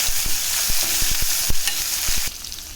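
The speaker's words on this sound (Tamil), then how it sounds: "வெங்காயம் போட்டு கிண்டி விட்டுக்கலாம்" Sliced onions stirred and fried in a pan for radish sambar, loud sizzling broken by sharp spatula scrapes and knocks against the pan, ending a little quieter, with no talking.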